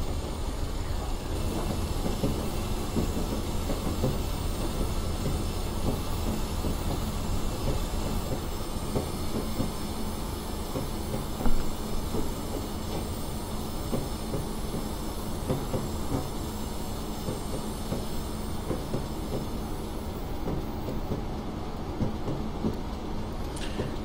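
A Class 37/4 diesel locomotive in large logo livery runs on the West Highland Line in Train Simulator 2016, giving a steady, continuous engine drone with rail rumble and faint clicks throughout, with no talking.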